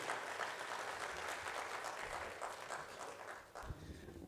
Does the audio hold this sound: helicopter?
no